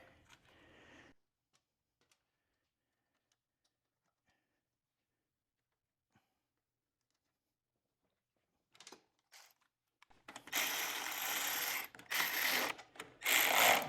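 Bolts on the carburetor of a Troy Bilt 2410 snow blower are tightened with a ratchet. Near silence gives way to a few faint clicks, then a loud, close run of rapid clicking ratchet strokes in short bursts.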